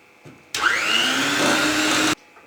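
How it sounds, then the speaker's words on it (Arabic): Electric mixer whisking cake batter with whole milk at high speed, switching on abruptly into a loud steady whirring drone that rises slightly in pitch, then cutting off sharply after about a second and a half. "بدي اخفقهم على سرعة عالية بس لحتى تمتزج المكونات مع"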